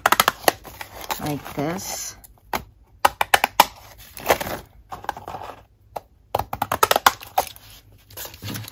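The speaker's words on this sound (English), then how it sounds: "I'm just taking my stamp scissors and cutting them out" Small stamp scissors snipping paper, a run of short, crisp cuts close by with pauses between them, while a person talks over part of it.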